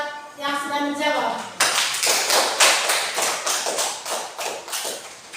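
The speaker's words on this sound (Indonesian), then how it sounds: "Mari kita tepuk tangan buat yang sudah menjawab." A group of children clap briefly for a child who answered a question in a class, a burst of several even claps after a spoken voice.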